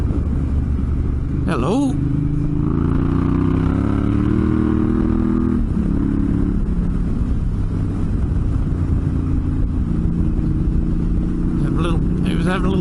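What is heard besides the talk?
motorcycle riding on desert road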